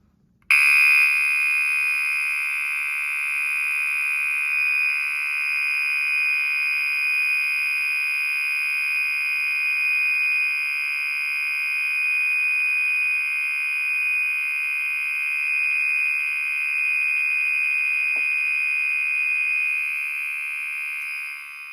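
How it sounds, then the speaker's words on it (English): A loud, continuous high-pitched fire alarm tone sounding steadily for over twenty seconds without a break. "fire alarms really aren't supposed to sound peaceful"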